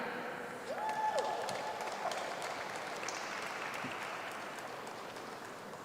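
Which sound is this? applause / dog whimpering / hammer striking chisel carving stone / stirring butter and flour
applause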